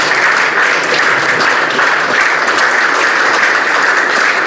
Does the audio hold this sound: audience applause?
yes